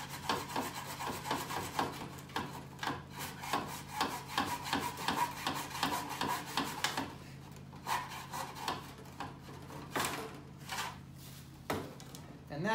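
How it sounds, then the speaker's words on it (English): Hacksaw cutting PVC plastic trim in a miter box for 45-degree joints, a close, rhythmic rasping of steady back-and-forth strokes with a brief pause midway. "This is a PVC plastic, so I'm using a hacksaw, and then I'm using my miter box."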